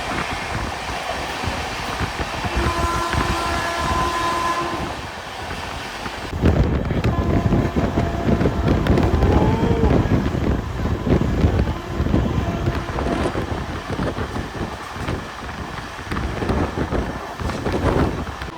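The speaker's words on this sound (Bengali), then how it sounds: "ট্রেনের একবার গতিবেগ দেখো প্রায় একশো দশ এর কাছাকাছি চলছে" Express 13115 from Sealdah to Jalpaiguri Road runs at about 110 km/h, heard from inside as a steady roar of wind and rail rumble that grows harsher and louder partway through.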